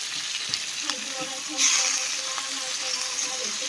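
Paneer frying in oil in a pan, a continuous close crackling sizzle that swells briefly as pieces settle, with faint voices in the background.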